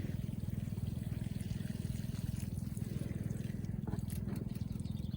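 Garden plants in France being watered, a steady close trickle and patter of water running onto soil and leaves, continuous and fairly loud with a low rhythmic pulsing underneath.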